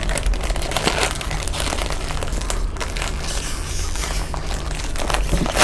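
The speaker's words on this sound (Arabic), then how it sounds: "يلا افتح بقى انت الكيس بتاعك." A plastic bag holding toys is torn open and crinkled by hand close up, with steady rustling and crackling throughout and no talk.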